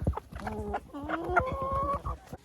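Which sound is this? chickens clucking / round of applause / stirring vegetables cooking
chickens clucking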